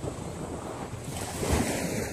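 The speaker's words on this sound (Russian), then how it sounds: "Волна прибывает." Atlantic Ocean waves wash onto a Miami beach in a continuous, close surf rush, with light wind buffeting the microphone and a slightly stronger surge partway through.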